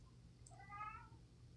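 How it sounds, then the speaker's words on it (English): A domestic cat meows once, a clear rising-then-falling cry of about half a second standing out over a low steady background hum. "Cat, be quiet."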